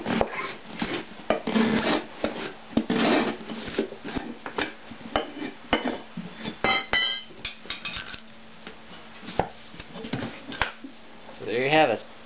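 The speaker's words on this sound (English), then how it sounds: "I'll just work my way around the rim, just prying like this, prying it up like that and moving along" Wheelbarrow tire being pried off its rim with a screwdriver and crowbar: close, intermittent scraping, rubbing and metallic clinks in irregular bursts, with a brief squeak near the end.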